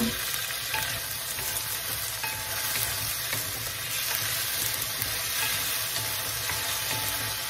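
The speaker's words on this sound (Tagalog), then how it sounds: "Lagyan na po natin ang ating kamatis." Whole tomato sizzling in a pan while sinigang na bangus with miso cooks, a loud, dense, unbroken frying hiss that holds steady throughout with no voices.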